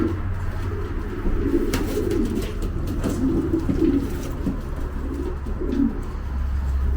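Racing pigeons cooing in a loft, soft overlapping low coos repeating close by over a steady low background hum, with an occasional faint chirp and no talking.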